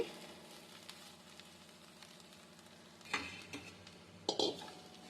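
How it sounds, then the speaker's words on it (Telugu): Amaranth leaves with onion-chili powder are stirred in a frying pan: a soft, low sizzle runs throughout, and two sharper scraping clatters from a spoon against the pan stand out near the end. "ఉల్లికారం వేసుకొని ఇట్లా బాగా కలిసేలాగా కలబెట్టుకోవాలి"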